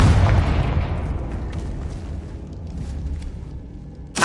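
A Confringo fire-blast spell explodes in Hogwarts Legacy with a loud, close boom that fades into a long rumbling decay, and a second blast begins sharply at the very end.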